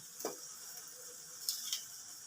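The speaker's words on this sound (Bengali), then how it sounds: "এবারে দিয়ে দিচ্ছি দুটো গোটা কাঁচা লঙ্কা মাঝখান দিয়ে চিড়ে নিয়েছি।" Two slit whole green chillies dropped into hot oil for a rui fish malai curry, giving a faint, steady sizzle with a few soft crackling pops, no talk.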